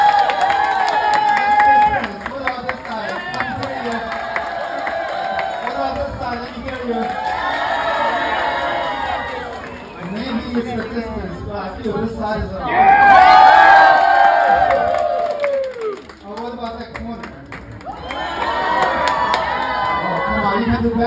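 A ballroom audience at a Joe Wong stand-up talk show cheers, whoops and applauds loudly, the crowd noise swelling and easing in waves over about twenty seconds.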